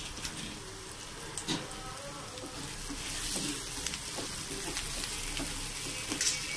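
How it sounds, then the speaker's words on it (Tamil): Coriander and curry leaves sizzle in hot oil while being stirred for a Tamil prawn thokku, a soft continuous frying crackle with occasional scraping stirs, fairly quiet and without talk. "போட்டு கொஞ்சம் நல்லா வதக்கிங்க,"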